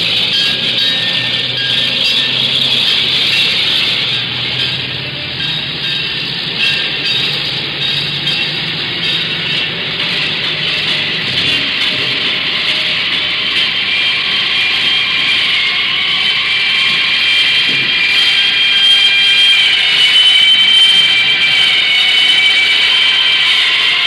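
New York City street noise from 1956: a dense, steady roar of traffic and engines with a broad hiss, continuous and loud throughout, no voices standing out.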